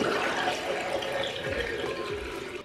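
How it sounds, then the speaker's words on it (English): Warm water splashes and trickles steadily as a face is rinsed at a sink, a continuous close wet wash with a few heavier sloshes and no talking. "now I'm gonna rinse my face with some warm water"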